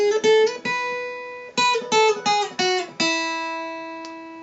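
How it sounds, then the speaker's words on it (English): A mountain dulcimer played with a noter moves through a five-note scale, each note plucked close and clear in a brisk, slightly uneven rhythm, the final tone left ringing and fading. "So if I play, say, a 5-note scale,"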